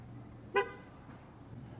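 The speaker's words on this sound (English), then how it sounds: "You actually lost your car in this small parking lot, so you have to beep it that many times." A single short car horn beep chirps in a small parking lot as a driver tries to locate the car, a brief bright honk standing out clearly against quiet background hum.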